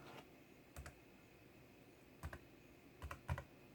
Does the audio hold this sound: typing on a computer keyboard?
yes